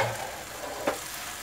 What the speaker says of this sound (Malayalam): ഒന്ന് നന്നായിട്ട് വഴറ്റി നമുക്ക് ഇതിലേക്ക് അരിഞ്ഞു വെച്ച കൂൺ ചേർക്കാം